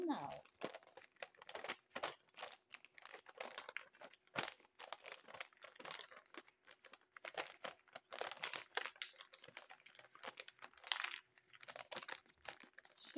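Plastic packaging strip being folded over and over into a small straw by hand, giving dense, close crinkling and crackling bursts throughout, with soft speech now and then.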